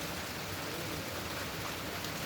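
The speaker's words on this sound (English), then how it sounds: "It was raining outside heavily." Heavy rain falling outside in the evening, a dense, even wash of hiss without pauses, fairly soft and steady with no one talking.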